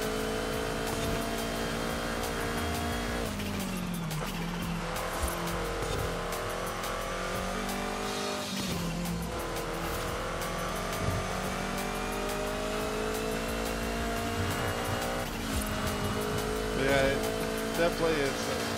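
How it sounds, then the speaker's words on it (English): Mazda 323 GT R race car climbing a volcano hill-climb course, its engine revving hard and rising through repeated gear changes, with brief dips between shifts; a loud, continuous run with a voice talking over it. "Pretty good acceleration considering it's 9 speed."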